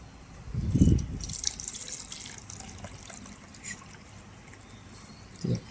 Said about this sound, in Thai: กรองรอบที่สามกันนะครับ รอบสุดท้ายแล้วจะได้น้ำเข้มข้นแล้วครับ